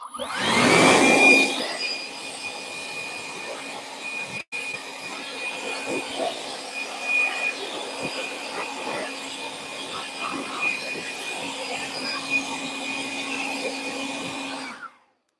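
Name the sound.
air blower blowing out debris at milling machine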